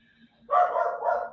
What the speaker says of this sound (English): That's the dog. The dog chimes in.